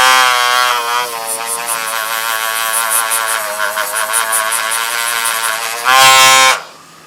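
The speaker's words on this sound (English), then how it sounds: "I'm simply going to use my little tool here with a little wire brush to brighten" A small rotary tool fitted with a wire brush polishes the commutator of an old model train motor, giving a loud, steady high-pitched buzz that wavers slightly, surges near the end, then cuts off abruptly.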